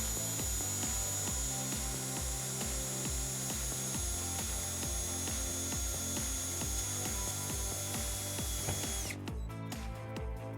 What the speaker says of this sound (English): we're just gonna put a screw right in next to it